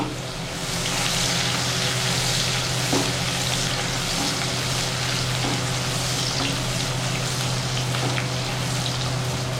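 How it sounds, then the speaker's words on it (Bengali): Chopped onions frying in oil in a home kitchen for biryani, a steady dense sizzle that holds level and fairly loud throughout with faint stirring clicks, no talking. "এই তেলের মধ্যে আমি পেঁয়াজ কুচি দিয়ে দিলাম পেঁয়াজটাকে আমি লাল করে নেবো"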